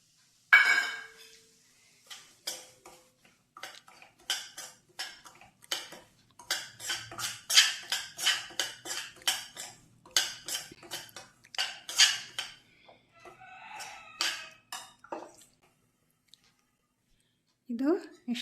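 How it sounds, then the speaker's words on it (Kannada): A spoon scrapes and clinks steadily in a pan as fine semolina is stirred and fried in ghee, a rhythmic run of close metallic scrapes with quiet gaps and a brief voice at the very end. "ರವೆ ಎಲ್ಲ ಫ್ರೈ ಆಯಿತು ತುಪ್ಪದಲ್ಲಿ."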